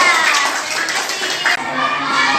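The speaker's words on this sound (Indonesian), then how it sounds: "Tepuk tangan untuk kelompok jeruk." Classroom applause for group Jeruk, a dense burst of many children clapping at close range, steady and loud throughout with a brief dip midway.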